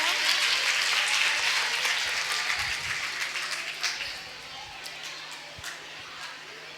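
Audience applause at a Jain Daslakshan festival discourse, a dense wash of clapping that starts full and gradually thins and fades over several seconds, with a few scattered claps near the end.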